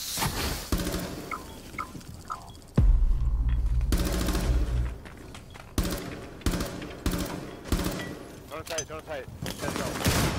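Gunfire shot through a wall in Rainbow Six Siege, heard as loud repeated bursts and single cracks across the clip, with players talking between and over the shots.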